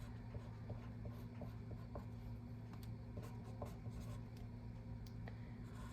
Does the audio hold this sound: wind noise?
no